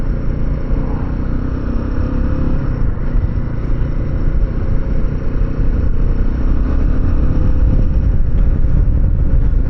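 A Royal Enfield Himalayan 450 engine thumps steadily at close range, a loud continuous low rumble as it rides along, with faint traffic in the background.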